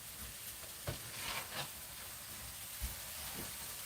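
An omelette cooks in a pan, the egg frying with a faint, steady sizzle and hiss, broken by a few soft clanks and stirring bumps.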